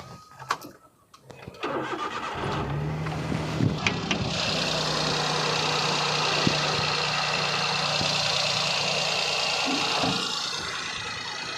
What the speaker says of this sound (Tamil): இப்போ இந்த வண்டியை நம்ம ஸ்டார்ட் பண்ணி பார்த்துடலாம்.